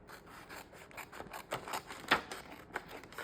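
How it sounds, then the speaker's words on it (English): Small scissors snip around the rounded corners of a paint sample card, giving a series of quiet, close crisp cuts and rubbing scrapes with one sharper snip near the middle. "And we just need some scissors."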